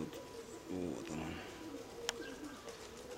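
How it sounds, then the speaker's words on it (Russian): A flying pigeon, molting, coos in low, soft repeated notes outdoors in hot, windy weather, with someone talking nearby and a brief sharp click partway through. "Значит, летный голубь, да?"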